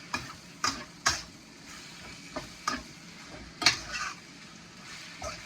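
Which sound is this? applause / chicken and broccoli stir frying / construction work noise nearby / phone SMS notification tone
chicken and broccoli stir frying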